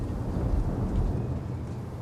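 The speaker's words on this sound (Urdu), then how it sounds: "تیز بارش کی آواز اور بادلوں کی گرج" Heavy rain pours steadily with low rumbling thunder rolling underneath, a dense, loud, continuous wash with no voices.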